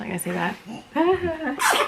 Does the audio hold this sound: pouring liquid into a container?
no